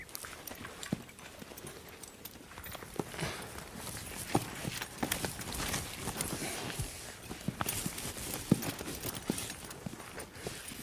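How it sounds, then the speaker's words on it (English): Several horses move around a corral near a young stallion, their hooves clip-clopping and shuffling in an irregular rhythm, moderately near and fairly soft, with a few sharper hoof strikes. "Brian has corralled several other horses."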